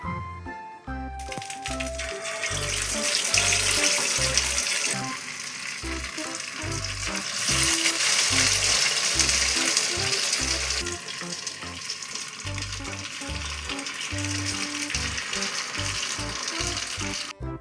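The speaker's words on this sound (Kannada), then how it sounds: "ಇವಾಗ ಇದನ್ನು ನಾವು ಫ್ರೈ ಮಾಡ್ತೀವಿ" Marinated green fish kabab fries in oil in a pan, a loud, continuous close sizzle and crackle with light stirring and clinks throughout.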